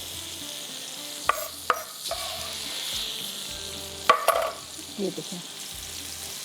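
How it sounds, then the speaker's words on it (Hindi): Chopped onion frying in hot oil in a home kitchen, a soft continuous sizzle with a few sharp clinks and stirring scrapes from utensils, while a person speaks briefly. "ये आपके सामने मैंने ऑयल डाला, ये प्याज चॉप की हुई डाली"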